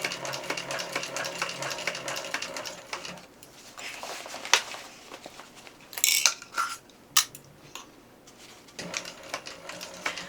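A sewing machine stitches a backpack panel seam with the gusset facing down, bursts of rapid mechanical stitching near and clear, broken by pauses with fabric handling and a few sharp clicks.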